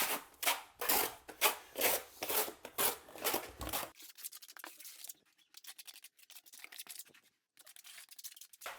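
A trowel rubs and spreads thin-set mortar over a concrete slab for a shower base, opening with a run of loud, rhythmic scraping strokes, then thinning into quieter, intermittent scratches with brief pauses near the end.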